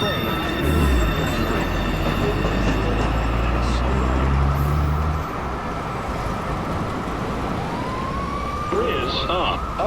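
A New York City subway Express 2 train rumbles into a station platform, loud and close, with a siren-like tone rising near the end over steady rail roar.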